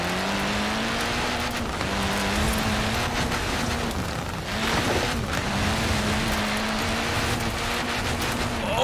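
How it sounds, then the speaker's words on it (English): Car engine in Forza Horizon 4 accelerating hard, a rising and falling game-engine drone that repeats through several throttle surges, joined by a rushing noise and with no talking. "This thing sounds so mean when you hit the gas."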